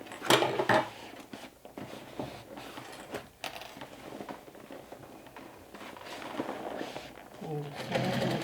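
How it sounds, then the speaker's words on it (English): A sewing machine stitches vinyl backpack fabric, its fast mechanical whirring running at moderate volume beneath a person talking, with occasional knocks and handling sounds. "this vinyl sews so beautifully that I'm not even sorry. It glides so nicely through the machine."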